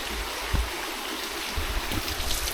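Water pours over a small mini waterfall at a riverside campsite in Davao Oriental, a steady close rush of splashing flow with a few low thumps and no talking.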